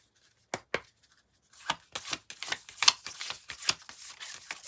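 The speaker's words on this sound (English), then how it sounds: "Let me give these a good shuffle" Tarot cards being shuffled by hand, a couple of isolated snaps followed by a rapid run of crisp riffling and slapping bursts, close and fairly quiet.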